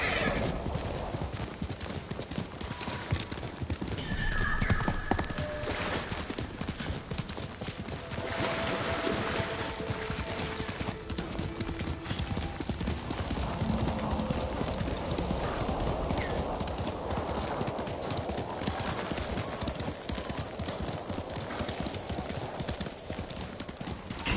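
Rhythmic hoofbeats clip-clop steadily while a horse whinnies and neighs in the video game Ghost of Tsushima, set against game-like ambient sound with no talking.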